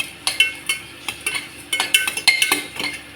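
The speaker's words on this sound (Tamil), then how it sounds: "வெங்காயம் அரிஞ்சு வச்ச வெங்காயம் கொஞ்சம் போட்டு இப்படி நல்லா வதக்கிக்க வேண்டியதான்" A metal utensil scrapes and clinks against a pan while stirring chopped onions, a series of sharp irregular taps and scrapes, fairly close, with no voices.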